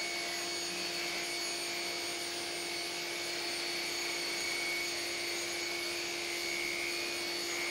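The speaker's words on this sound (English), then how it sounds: "And then I ripped and ripped and ripped until I ran out of boards." Wooden boards are ripped into strips on a saw, a steady loud whining drone with a sustained tonal hum running throughout and no pauses or voices.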